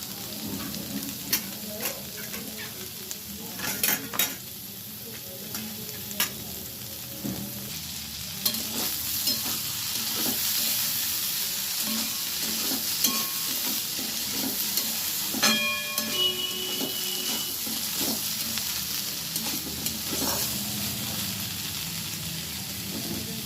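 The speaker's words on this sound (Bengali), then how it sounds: "আমি এবার পেঁয়াজগুলো দিয়ে দিচ্ছি" Onions frying in a pan for a bean dish, a continuous sizzle with scattered clinks and scrapes of a utensil stirring, close and steady, with no voices.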